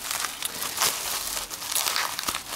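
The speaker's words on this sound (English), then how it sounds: "it's all this bubble wrap, which I'm sure everybody loves to watch" Bubble wrap being unwrapped from an arcade sound board, a close, continuous crinkling and rustling of plastic with occasional sharper crackles, loud and alone without talk.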